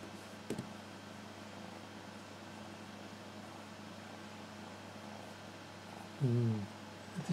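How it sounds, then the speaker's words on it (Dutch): A soft, low cat purr rumbles steadily close by over faint background hum, with a brief louder rustle near the end. "Het is wel een lief katje hoor"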